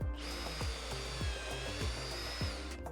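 A power drill bores into a tree trunk, boring into the healthy xylem wood for a trunk injection, giving a steady close whine with a low rhythmic thump pulsing through it.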